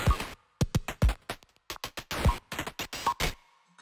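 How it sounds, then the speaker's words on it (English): A glitch drum break run through a ring modulator, clipped percussive hits and metallic-toned bursts in a stuttering, uneven pattern, close and fairly quiet, fading out at the end. "I actually liked it better using the ring modulator instead."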